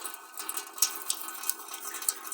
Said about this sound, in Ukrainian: будемо зараз мити наші знахідки другого дня після того, як ми знайшли скарб